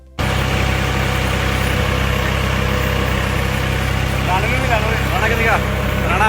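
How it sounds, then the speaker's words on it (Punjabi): Close-up, steady low rumble of a tractor engine running on a village outing in Punjab, continuous throughout, with voices talking over it. "ਉਹ ਟਰੈਕਟਰ ਚਲਾਉਂਦੇ ਹੋਏ ਪੰਜਾਬ ਦੇ ਵਿੱਚ ਗੇੜੀਆਂ ਮਾਰਦੇ ਨਜ਼ਰ ਆ ਰਹੇ ਨੇ"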